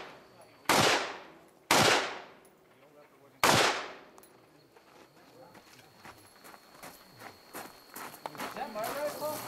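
Three loud, sharp rifle shots at an outdoor shooting match, close and spaced irregularly over the first few seconds, each with a ringing decay, followed by background noise and voices.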